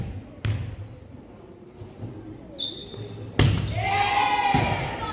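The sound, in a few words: volleyball serve hit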